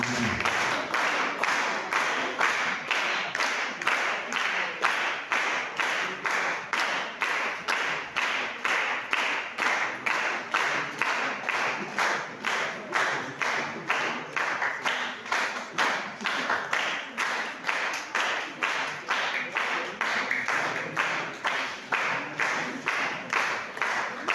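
Wedding guests at a church ceremony applauding the couple, steady rhythmic group clapping in unison that stays loud and even throughout.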